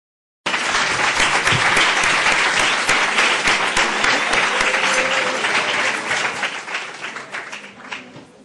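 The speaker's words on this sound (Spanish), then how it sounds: "Agradecérselo con un aplauso." Audience applause closing a talk at a library and documentation seminar: a loud, dense burst of many people clapping that starts abruptly, holds steady, then thins out and fades near the end.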